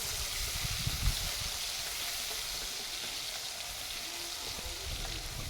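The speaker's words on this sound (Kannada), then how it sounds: "ಶುಂಠಿ ಬೆಳ್ಳುಳ್ಳಿನ ಫ್ರೈ ಮಾಡ್ಕೊಳ್ಳಿ" Ginger-garlic paste fries in hot oil for masala pasta, a steady, dense sizzle that holds evenly throughout without pauses, close and loud, with no voices.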